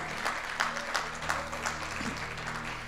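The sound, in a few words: congregation applauding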